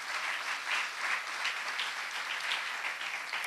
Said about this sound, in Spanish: Dele el aplauso al Señor Jesucristo.